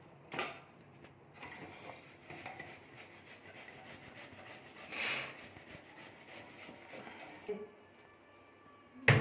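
Watermelon is rubbed against a hand grater in repeated quiet rasping strokes, a soft scraping rhythm heard close up with a few louder scrapes and no talking.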